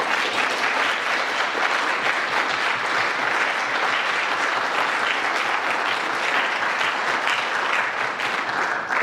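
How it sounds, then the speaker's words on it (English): A crowd at a Q and A event breaks into loud, dense applause that holds steady throughout, a continuous wash of many hands clapping at once with no voices rising above it. "don't you think she deserves an extra round of applause?"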